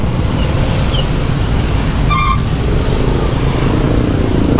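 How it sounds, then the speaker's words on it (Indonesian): Steady, dense road traffic in a jam with cars and motorcycles idling and creeping, heard from a KLX motorcycle, a loud continuous rumble throughout with a brief faint horn-like tone midway. "Macet, seperti biasa macet."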